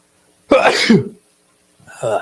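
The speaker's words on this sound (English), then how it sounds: "I was holding that sneeze for almost 10 minutes" A person's sneeze bursts out loud and close for about half a second, followed after a pause by a shorter vocal sound.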